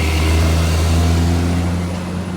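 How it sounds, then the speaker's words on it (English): A big truck's engine rumbles close behind, a loud, steady low drone that swells and eases slightly and runs the whole moment without any talk. "Sorry for the loud noise. We got a big truck behind us."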